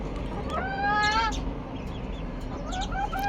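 Backyard chickens, both grown hens and young chicks, make rising, chirping calls in a few short bursts close by, over a low steady background hum.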